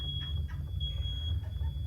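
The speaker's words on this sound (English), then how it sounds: "My wife just set off all the alarms in the house." Household smoke alarms set off by cooking give a steady, piercing high tone that holds through the whole stretch, sitting fairly faint over a low, continuous background rumble.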